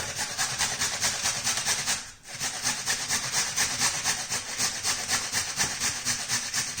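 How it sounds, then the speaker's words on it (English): Carrot and swede being grated on a hand grater, a rapid rhythmic rasping scrape that continues steadily with one brief pause, close and moderately loud with no talking. "You can grate the carrot and grate the swede."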